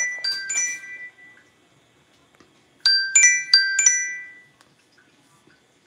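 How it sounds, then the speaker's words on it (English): A mobile phone rings in a home kitchen during cooking, two bursts of a bright chiming ringtone separated by a pause, clear and close with no talk. "my phone's ringing."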